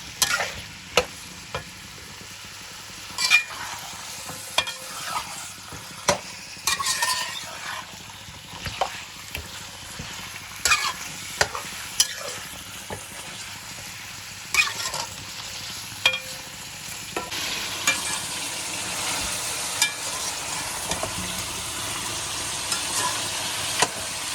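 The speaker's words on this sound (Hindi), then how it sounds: "चिकन मैंने मिक्स लिया है कलेजी पोटे के साथ। इसे हम अच्छे से फ्राई कर लेते हैं।" Chicken with liver and gizzard sizzles and crackles steadily in a hot pan, with occasional sharp clicks of stirring and scraping throughout.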